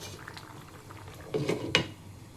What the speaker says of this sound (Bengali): আবারও 5 মিনিট ঢাকা দিয়ে ভালো করে ফুটিয়ে নিতে হবে।